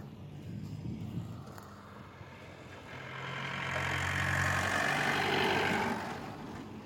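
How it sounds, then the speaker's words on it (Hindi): A tractor engine idles on a Kerala tea estate, a steady mid-pitched rumble that swells louder midway and then eases back, heard close and alone. "अभी मैं आपको यहाँ की ट्रैक्टर दिखाता हूँ, ये देखो।"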